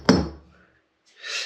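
A hammer strikes a stuck part on a Datsun 240Z once with a sharp, close metallic knock that rings out briefly. A soft breathy hiss follows.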